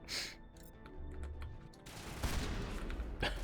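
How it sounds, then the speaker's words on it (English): Shotgun blasts in the Mass Effect Legendary Edition video game, a few heavy booming shots with rough crackling decay over a busy game soundtrack, the later blasts louder and closer. "the recoil on the shotgun's crazy"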